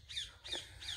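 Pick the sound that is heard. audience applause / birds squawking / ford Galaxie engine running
birds squawking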